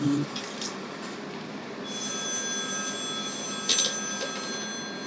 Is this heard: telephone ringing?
yes